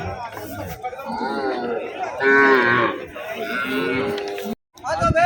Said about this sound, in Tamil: மாட்டு சந்தையிலேயே பார்த்தீங்கன்னா இந்த மாடெல்லாம் இவ்வளோ மாடு இருக்குது.